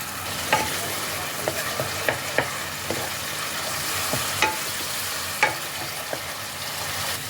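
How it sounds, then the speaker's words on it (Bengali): Spice masala for palak paneer being stir-fried in a pan with a splash of water and a little sugar, a steady close sizzle broken by sharp spatula scrapes and clinks every second or so. "এবার মশলাটাকে ভালো করে কষিয়ে নিতে হবে।"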